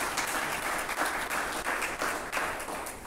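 An audience at a District 5 town hall meeting claps steadily for about three seconds, a dense and even round of applause heard alone with no talk over it.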